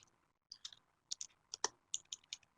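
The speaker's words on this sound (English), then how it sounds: "typing is probably kind of loud on the webinar" A computer keyboard being tapped in a short run of about ten light, quiet key clicks at an uneven pace, close but faint, with no talking.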